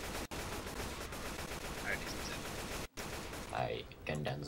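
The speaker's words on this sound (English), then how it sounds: "I gun down zombies." Gunfire from shooting zombies in the Left 4 Dead 2 video game: dense, rapid, loud shots running almost nonstop with two brief cuts, while voices come in near the end.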